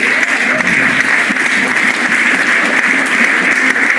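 An audience claps for a guitarist and singer, a dense, steady wash of applause that fills the whole few seconds at full strength without fading.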